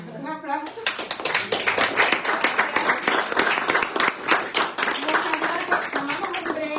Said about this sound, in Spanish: Bueno, un aplauso.